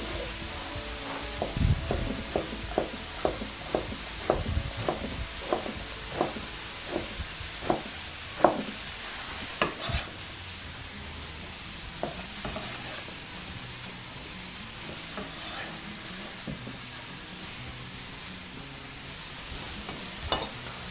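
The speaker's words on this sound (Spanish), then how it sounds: "Al final de esto vamos a mezclar todos los ingredientes: la berenjena, el tomate, el cebollín" Vegetables sizzle and are stirred in a pan: eggplant, tomato, chives and zucchini for ratatouille, with a steady frying hiss and a rhythmic series of utensil scrapes and taps early on that thin out later.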